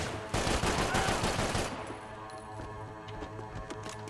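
Rapid gunfire from a cannon weapon in the video game Max Payne 3, a loud dense burst of shots in the first second and a half that then thins into scattered fainter impacts and clinks.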